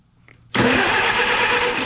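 An International 300 Utility tractor engine cranks and fires at once, jumping from near quiet into a loud, steady running roar that holds to the end.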